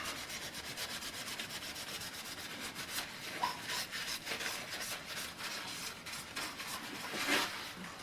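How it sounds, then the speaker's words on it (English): Rubbing sounds from wiping a woodturned seam ripper of coconut or red palm wood clean with alcohol, a steady close scrubbing texture that runs continuously with a few brighter squeaky strokes. "Clean that with a bit of alcohol."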